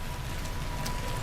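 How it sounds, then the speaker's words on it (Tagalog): Heavy rain pouring steadily outdoors in Canada, a dense continuous hiss with no breaks, loud and alone. "Lakas ng ulan."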